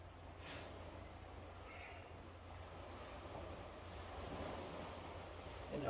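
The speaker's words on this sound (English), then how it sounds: "There's crashing waves there." Waves crash at the seashore of Sarangani Bay in the Southern Philippines, a steady, fairly faint surf wash with some wind noise that swells slightly toward the end.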